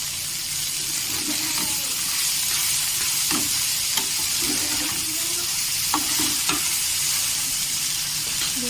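Taro greens with a hilsa fish head fry and sizzle in a pan while being stirred, a steady loud hiss with repeated scraping strokes of the spatula, with speech faintly in the background.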